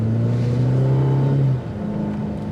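A 2025 Cadillac CT4 with a turbocharged engine accelerates from about 20 mph, a steady loud engine drone heard from inside that drops off abruptly after a second and a half into a quieter hum.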